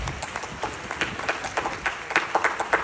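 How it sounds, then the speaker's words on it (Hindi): An audience at an awards ceremony applauds in a dense, steady patter of clapping that stays fairly quiet and distant throughout. "एक बार जोरदार तालियां सभी लोग अपने लिए दें।"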